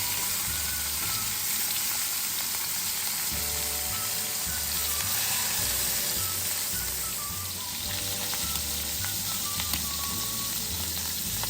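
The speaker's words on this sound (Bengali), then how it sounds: "তেল গরম হলে মাছের মাথাটা সাবধানে কড়াইয়ে ছেড়ে দিতে হবে।" Fish head frying in hot mustard oil in a kadai, a steady crackling sizzle with small pops, close and continuous, over a low rhythmic background hum.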